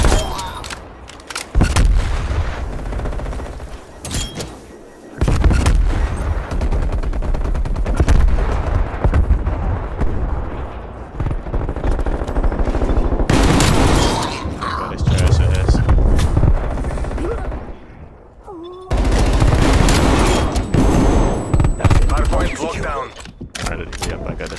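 Gunfire in Call of Duty Black Ops Cold War, with bursts of rapid automatic shots from an LC10 and other weapons, loud and close, broken by short pauses and mechanical clicks over a long stretch of play.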